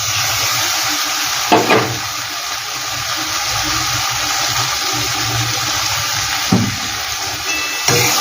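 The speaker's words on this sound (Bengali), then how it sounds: "মশলাটা কিন্তু আমি সুন্দর করে কষিয়ে নেব।" A spice paste masala of Kashmiri chilli powder, poppy seed and cashew paste fries steadily in a pan, a loud continuous sizzle broken by a few brief stirring scrapes.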